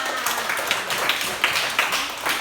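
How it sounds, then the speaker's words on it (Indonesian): Children clapping their hands in a classroom, a steady patter of quick claps with a few louder accents, close and continuous over the whole stretch. "Tepuk tangan."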